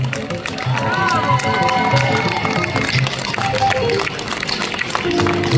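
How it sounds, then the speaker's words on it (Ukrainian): Steady crowd applause at a concert, many hands clapping in a dense continuous wash with faint music and murmuring voices beneath, sustained for several seconds. "Будь ласка, поаплодуйте."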